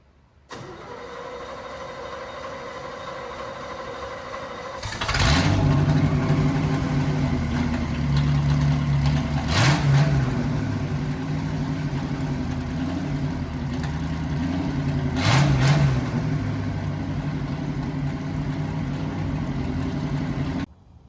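A 1963 Chevy C10 pickup starts up and idles steadily, then its engine note rises and swells in a few revving surges while it is moved around other cars. It is close and continuous, with no talk.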